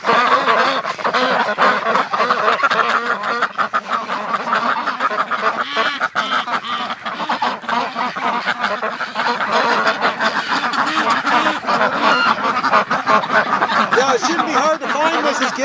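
Breeding ducks kept in a winter pen quack and honk nearby, a loud, continuous chorus of overlapping calls.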